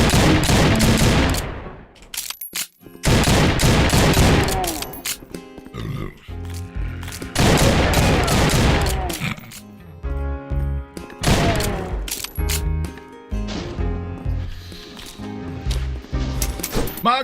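Gunfire in the Doom mod Doom Redux x High Noon Drifter, loud bursts of shots in several clusters with gaps between them, over game music and noise.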